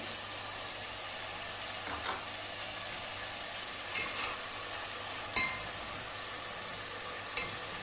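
Masala and onion frying in a pan for chicken over a lowered flame, heard as a faint, steady sizzle with a few soft stirring clicks, no voices.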